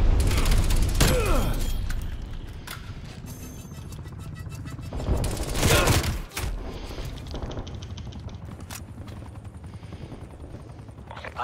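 An artillery barrage in Call of Duty: Black Ops Cold War, with a helicopter droning loudly throughout, heavy booms and bursts of gunfire, and a large blast near the middle.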